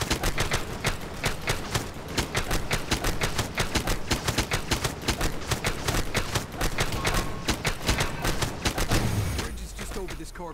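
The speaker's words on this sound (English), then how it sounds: "we need to take care of that turret before it takes care of us" Rapid turret gunfire bursts in the LEGO Marvel Avengers video game, a dense stream of sharp, loud shots repeating steadily for about ten seconds, then cutting off near the end.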